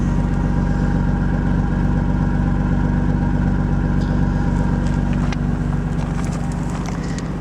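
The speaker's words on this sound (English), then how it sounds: "I'll give you a sound of the exhaust here." A 1999 Nissan R34 Skyline GT-R V-spec idles with a steady, deep, throbbing exhaust burble, close and loud throughout, with a few faint clicks near the end and no talking.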